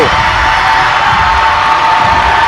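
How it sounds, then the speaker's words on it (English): A packed gym crowd at a 5A bi-district high school girls' volleyball playoff between Birdville and Aledo roars continuously, a loud, dense wall of cheering and yelling that never lets up. "listen to this crowd. Absolutely ridiculous."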